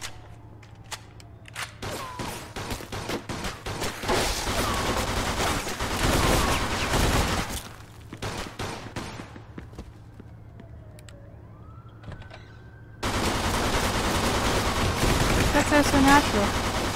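Gunfire in the Mafia II video game, with bursts of rapid shots and sharp cracks across a noisy action soundscape and a passage of sustained, louder shooting near the end.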